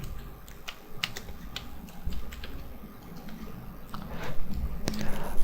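Computer keyboard keys pressed for a Ctrl+V paste, a run of light clicky taps at an uneven rhythm, close by, with soft room noise between presses.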